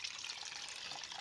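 Rainwater from a heavy downpour pours off a field into a ditch, heard as a brief, even, close gush of flowing water with nobody speaking.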